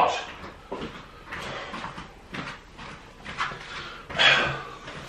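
A dog in a home barks and whimpers in a string of short, uneven yelps and whines at close range, with some knocking and movement noise around it.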